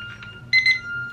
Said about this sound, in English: 5 seconds left. It's about to ring.